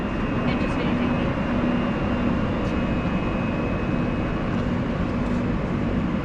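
A train at a Warszawa station in Poland gives off a steady, close rumble with a faint high tone running through the whole stretch, while voices talk intermittently over it.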